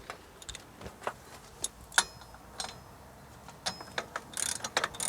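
A 30mm socket and wrench ratchet as they tighten the rear wheel hub of a Mitsubishi 3000GT/GTO 4WD, with scattered sharp clicks and ticks, quiet and close, growing busier toward the end.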